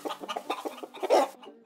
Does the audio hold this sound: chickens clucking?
yes